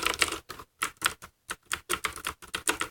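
Close, clicky keystrokes on a Cooler Master Quickfire TK mechanical keyboard with MX Blue switches come in quick irregular bursts separated by short silent gaps.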